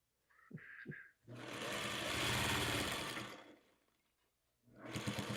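Sewing machine stitching rows of a scrappy hourglass quilt block together, a steady loud whirring run of a few seconds between brief pauses, with short machine bursts at the start and end.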